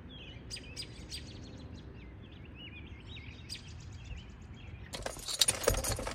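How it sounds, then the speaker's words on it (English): Birds chirp and tweet outdoors in quick repeated calls over a low steady background rumble, followed by a brief burst of clattering noise near the end. "I kept hearing all these birds outside."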